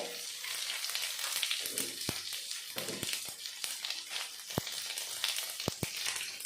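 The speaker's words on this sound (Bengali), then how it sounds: "এবার ফোড়নে ওই তেলে আমি ফোড়ন দিয়ে দেবো ফোড়নে দিয়ে দেবো গোটা জিরে" Whole cumin seeds hit hot oil left from frying fish and sizzle steadily, with close crackles and sharp pops scattered throughout as the tempering for a taro-stem fish curry begins.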